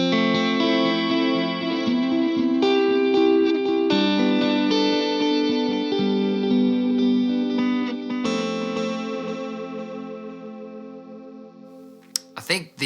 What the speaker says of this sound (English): the vintage digital delay, and that's kind of an emulation of an old Eventide rack-mounted delay,